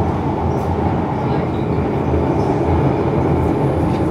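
A London Underground Tube train between Piccadilly Circus and Paddington rumbles along, heard from inside the carriage as a loud, steady low roar with no clear breaks.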